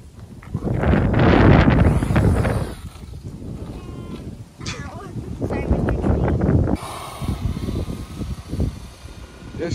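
Gusty wind buffets the microphone in loud rumbling surges, with the motor of a Losi RC truck droning underneath.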